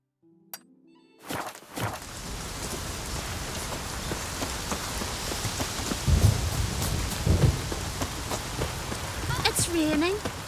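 Steady, heavy rain patters on surfaces throughout in The Witcher 3: Wild Hunt, with low thunder rumbling underneath and a few brief synthetic tones near the end.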